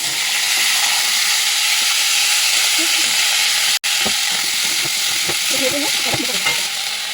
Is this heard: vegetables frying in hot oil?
yes